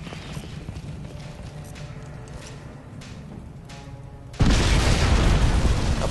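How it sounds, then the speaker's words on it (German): A loud, sudden explosive blast erupts in Crysis 2 after several seconds of rumbling game ambience, sustaining a dense roar to the end. "Explosion unmittelbar bevorstehend."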